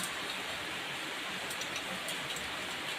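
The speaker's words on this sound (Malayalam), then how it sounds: "നല്ല മഴ" Heavy monsoon rain in Kerala pours down as a steady, dense hiss that fills the whole clip at an even level, with no voices over it.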